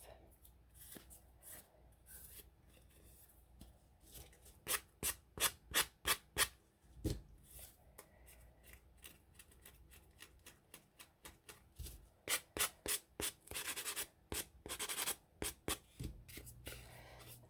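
Sanding the edge of a collaged Dollar Tree tin by hand, with quiet rubbing strokes and bursts of short, rhythmic scraping passes, close and fairly faint.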